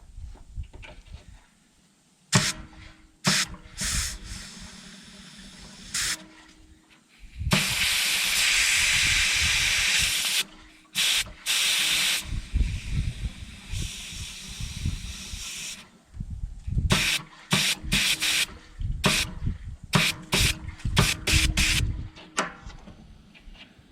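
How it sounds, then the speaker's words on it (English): Fuel bubbling and hissing in the pickup-tube fuel system of an Isuzu cab-over truck, close and fairly loud, with steady gurgling stretches broken by sharp clicks and bursts. "Well, that's interesting. They're both bubbling the fuel."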